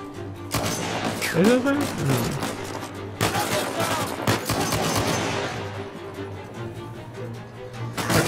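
Sniper gunfire in the video game Uncharted 4 cracks out in a few sharp shots amid a busy rumbling firefight, with someone talking briefly over the action.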